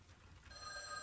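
An electronic telephone rings in a video game, a faint tonal trill that starts partway in and holds steadily over a quiet background.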